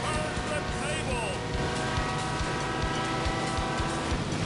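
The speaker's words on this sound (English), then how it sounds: "And then you hear the train." A train in the video game Monster Truck Madness 2 rumbles past with a steady rhythmic clatter of wheels and a brief whistle-like tone, moderately loud behind the game's engine noise.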